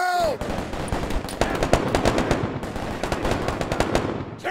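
Rapid automatic gunfire from the WarBox arena shooter, bursts of dense shots rattling almost continuously at close range after a brief opening tone, loud and steady throughout.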